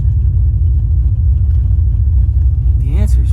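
A 500-horsepower family car's engine gives off a loud, steady, deep rumble that holds throughout, with a short rising whine appearing at the very end.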